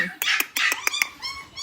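Pomeranian puppies in a cage let out a quick burst of high, sharp yips and barks, several short cries packed close together at near range.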